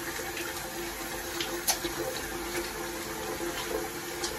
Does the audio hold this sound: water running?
yes